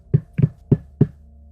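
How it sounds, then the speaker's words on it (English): Four firm knocks on a door, close and fairly loud, in an even rhythm with a slight double tap on the second, alone over a quiet low hum. "you hear a knock on the door"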